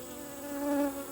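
Bees buzz inside a hive that has just received a new queen, a short, close, droning hum that swells briefly and then settles.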